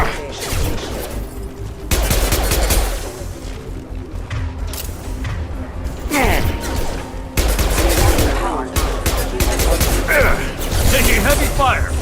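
Heavy sustained gunfire from security mechs in the Mass Effect video game, loud dense automatic bursts with booms rolling on through the whole stretch, pausing briefly between volleys, with some talk mixed underneath.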